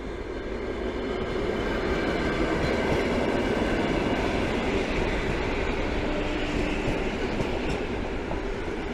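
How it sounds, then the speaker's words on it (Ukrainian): A city electric commuter train rumbles past nearby, loud and continuous throughout, with a dense rolling roar of wheels on rails and faint clatter. "Міська електричка у нас ходить"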